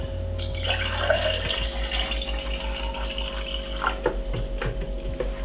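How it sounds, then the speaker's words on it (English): Water pours and splashes into a container in a kitchen while a detox drink of cucumber, lemon and apple cider vinegar is made, a fairly soft trickling stream that lasts a few seconds before tapering into faint drips. "pour a little bit of the water."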